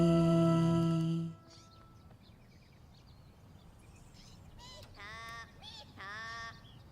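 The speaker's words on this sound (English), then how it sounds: "I've never heard a bird call like that before." Unusual cartoon bird call, a long loud honking tone followed by quieter pauses and two short warbling, wavering chirps further off.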